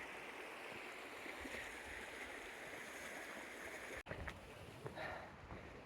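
Steady rushing water of Matterhorn Creek on the Pacific Crest Trail, a continuous close burble with a brief knock partway through.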